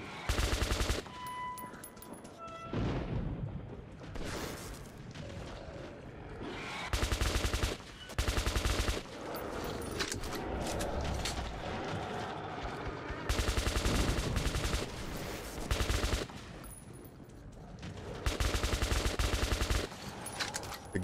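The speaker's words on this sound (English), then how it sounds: "The gun firing mechanics definitely show their face." Video game gunfire in Metro 2033, repeated loud bursts of automatic shots over a dense, noisy background, with short pauses between volleys across the whole stretch.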